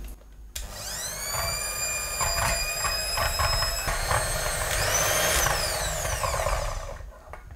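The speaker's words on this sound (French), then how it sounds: "On va fouetter maintenant notre crème liquide" An electric hand mixer whips liquid cream for a chocolate charlotte, a steady whining motor drone running close and loud for several seconds with small shifts in pitch, then cutting off near the end.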